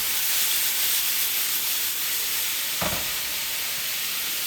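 Vegetables cooking down in a hot pan, with a steady bright sizzle throughout and one short thump or stir near the end.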